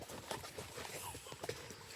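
A horse's hooves clip-clop at a steady walking rhythm along a slippery British country lane, quiet and fairly close, each strike distinct.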